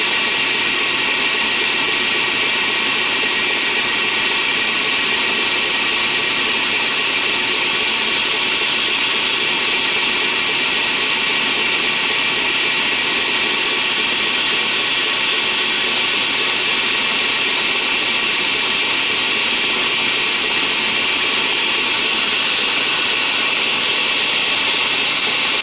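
An emery wheel grinds metal guards in a workshop, a loud, unbroken abrasive whine and hiss that holds steady throughout with no pauses or voices.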